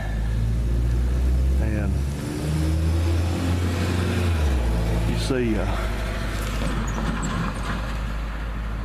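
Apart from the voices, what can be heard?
truck revving and driving past outside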